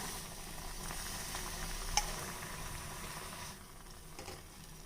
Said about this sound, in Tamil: நம்ம ஊற்றின தண்ணி நல்லா கொதிச்சு வருது